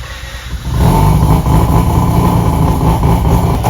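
A Mazda RX8 rotary engine fitted with methanol injection runs loud and close, idling briefly before the revs climb and hold at a raspy, steady level.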